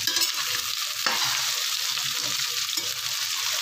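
Chopped onion frying in a pan with cluster figs, a dense continuous sizzle with a soft stir or scrape now and then, close and steady, no one talking.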